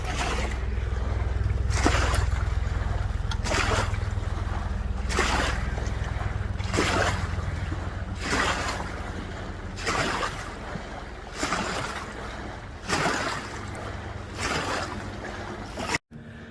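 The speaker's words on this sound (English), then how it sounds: "Here comes the wakeboarding boat again." A wakeboarding boat's engine drones steadily at close range on a lake, a low continuous rumble with wind and water noise, swelling and easing slightly as it passes.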